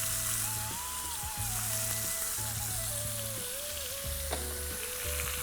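Chicken frying in oil or ghee in a handi with salt and spices, a close, continuous sizzle with crackling pops and occasional stirring scrapes, and no talking.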